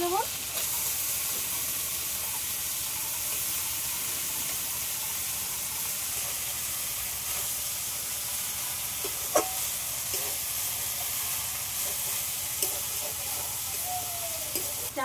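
Kalmi greens (water spinach) frying in a pan with salt and turmeric, giving a loud, continuous hissing sizzle throughout, with an occasional faint clink and brief scrape of a utensil.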